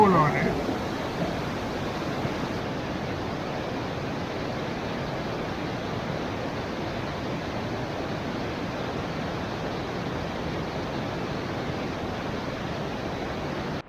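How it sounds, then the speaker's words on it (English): Steady rushing roar of a mountain waterfall between Hue and Da Nang in Vietnam, a dense, unbroken wash of falling water that holds an even loudness throughout and fills the scene. "this is the way to the last waterfall"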